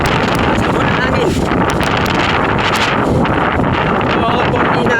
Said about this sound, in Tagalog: malakas po ng hangin